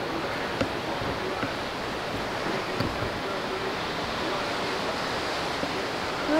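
Ocean surf rolls in steadily below a resort balcony in Cabo San Lucas, a broad, continuous wash of distant waves mixed with some wind, with no talking.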